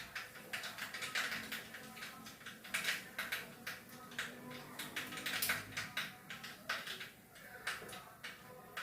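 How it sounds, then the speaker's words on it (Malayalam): Mustard seeds popping in hot oil, before tomato goes in: a dense, fast run of sharp little crackles and ticks, close and fairly quiet, continuing steadily throughout with no voice over it. "ഇപ്പൊ കടുക് പൊട്ടുന്നുണ്ട്."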